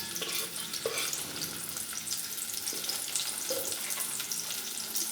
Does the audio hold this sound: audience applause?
no